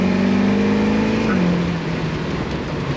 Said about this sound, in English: I actually heard a tire chirp when it went into the next gear.